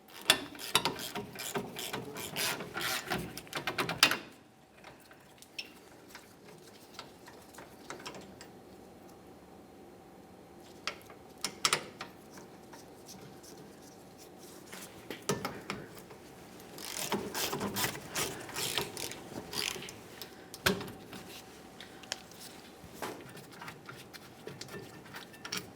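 Ratchet clicking on the 18mm caliper bracket bolts of a 1999-2006 Chevrolet Silverado 1500, with close, quick ratcheting runs separated by quieter pauses and occasional metallic knocks.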